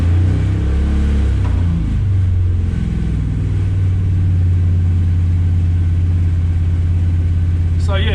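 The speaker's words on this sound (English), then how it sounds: "RPMs are up. We hit the gas just fractionally." A race car engine idles with a steady low rumble, then takes a fractional touch of throttle that lifts the revs slightly. The engine is close and loud throughout, and no one speaks.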